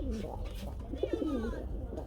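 Gola pigeons coo close by, with a soft rolling coo rising and falling over faint background noise.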